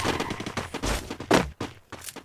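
Dual pistols fire in the mobile battle royale game Free Fire, rapid clustered shots in quick bursts with short gaps, loud and close.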